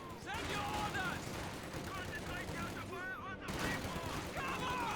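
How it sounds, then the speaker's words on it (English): Rapid bursts of MG34 machine-gun fire in Company of Heroes 2 crackle through the battle, with repeated volleys under a commentator's steady talk. "MG34 hitting the guards"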